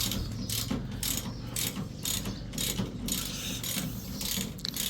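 A car air-conditioner cabinet is being removed with a rapid ratcheting tool. It makes repeated bursts of clicking, mechanical sound, close and loud, in rhythmic runs with no speech.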